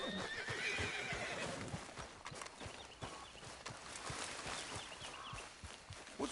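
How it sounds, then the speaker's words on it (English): A horse in the video game Red Dead Redemption whinnies and snorts over brisk clip-clopping hooves, with layered outdoor game ambience around it and no talk. "What's wrong with this horse?"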